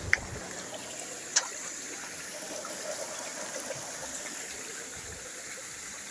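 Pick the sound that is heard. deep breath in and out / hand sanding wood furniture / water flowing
water flowing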